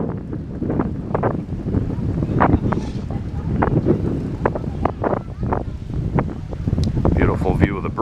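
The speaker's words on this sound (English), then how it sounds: "Headwind." Headwind buffeting a microphone while riding past a bridge on Mackinac Island, loud continuous low rumbling gusts with a voice speaking over it.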